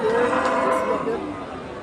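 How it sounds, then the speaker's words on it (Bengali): A black Australian-breed cow at a rural cattle market in Singra, Natore, lets out one drawn-out moo over crowd chatter. "কালো কালার মাসালা অস্ট্রেলিয়ান জাতের একটা গরু এখানে আমরা একটা দেখতে পাচ্ছি"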